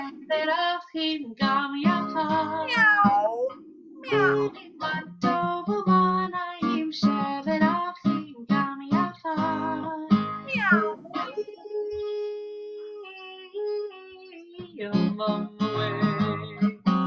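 A cat meows repeatedly in drawn-out, rising and falling cries over about seventeen seconds, with a brief quiet gap partway through, fairly close and clear.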